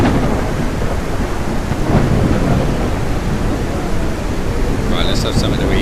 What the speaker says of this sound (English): Wow, that rain is quite loud